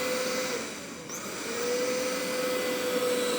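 A Taroma Robi1 robot vacuum cleaner runs in turbo mode with a steady, loud whooshing motor drone and a faint high whine, continuous throughout with no talking.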